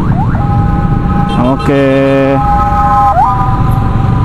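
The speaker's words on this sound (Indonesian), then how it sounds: "oh ambulan. Kita kasih jalan." An ambulance siren sounds close by in traffic, its wailing tones rising and holding steady over road and engine noise, with a brief spoken word.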